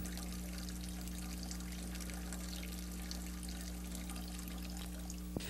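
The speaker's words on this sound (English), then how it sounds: "the effects of splatter and turbulence and the mixing of air in a poured liquid are" Liquid poured in an investment casting CLA process demonstration, splattering turbulently and mixing with air, a steady continuous wash of splashing with a constant low hum beneath it, alone without any talk.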